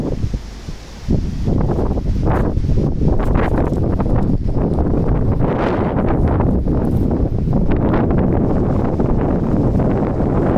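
Strong wind buffets the microphone in loud, gusting roars that surge and fade continuously, with rustling mixed in.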